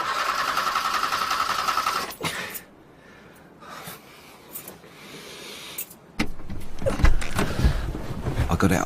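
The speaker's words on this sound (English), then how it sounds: "The stalled engine wouldn't start." A stalled car engine fails to start in a radio drama: a whirring, grinding cranking sound runs for a couple of seconds, gives way to near quiet with small clicks, then the straining motor noise returns loudly.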